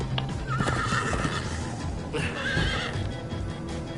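Horses whinny loudly in the Minecraft Story Mode video game, two drawn-out neighs over steady clip-clop of galloping hooves and busy game noise.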